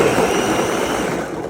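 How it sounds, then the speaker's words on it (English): A blender whirring steadily as it purees a ginger wellness shot with water, a loud continuous motor drone that eases off slightly toward the end, with no talking. "And then we're just gonna blend this until it's smooth."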